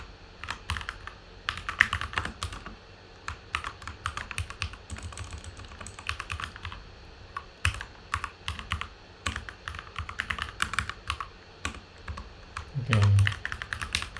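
Rapid clicking keystrokes on a computer keyboard that is partly malfunctioning, in irregular bursts of close, crisp taps with brief pauses, heard alone without talk.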